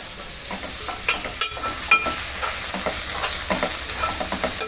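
Onions frying in hot oil with mustard and fenugreek seeds for a fish and raw mango curry, a loud, close, continuous sizzle with occasional pops and stirring scrapes.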